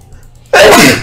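A single loud, close sneeze bursts out halfway through, during a League of Legends game session with a player on Nocturne top, following near silence.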